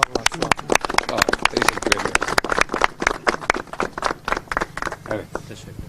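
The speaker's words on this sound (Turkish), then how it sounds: "Biz o zaman grubumu alkışlıyorum." A group claps for a Turkish parliamentary party at a political event, sharp close hand claps in a lively uneven rhythm, mixed with voices and some laughter.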